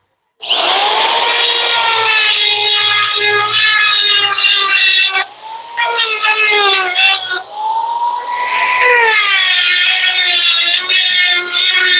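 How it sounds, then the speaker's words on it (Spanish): A rotary tool fitted with a tungsten carbide burr screeches at high pitch while deburring the inside of a metal bar. The whine is loud and close, with a few short dips where the pressure changes. "Me voy a ayudar con el mototool y una fresa de tusteno para limpiar las rebabas internas."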